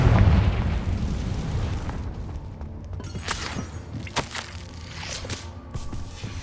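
A Confringo fire spell bursts with a heavy boom in the Hogwarts Legacy video game, followed by crackling debris and several sharp impact snaps as the blast settles near a cave.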